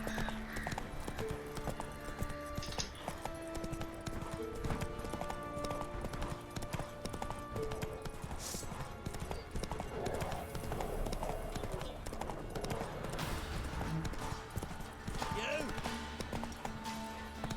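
Roach, a horse in The Witcher 3 video game, clip-clops with rhythmic hooves over a continuous game soundtrack, with an occasional whinny and game character dialogue heard throughout.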